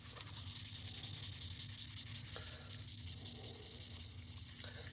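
Steady hand sanding of a Savage 93R17 rifle bolt with 2000 grit sandpaper, a continuous close rasping rub that carries on without pause and with no voices.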